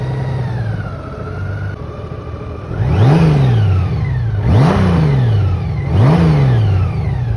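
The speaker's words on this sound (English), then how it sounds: "So let's start up this bike and hear that exhaust roar." A Honda Goldwing touring motorcycle idles, then its engine is revved hard three times in quick succession, each loud exhaust roar rising and falling back to idle, close by with no talking.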